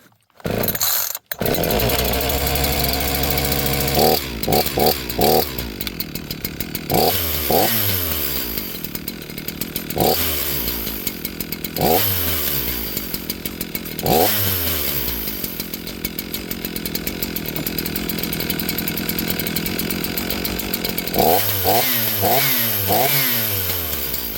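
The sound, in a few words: chainsaw being pull-started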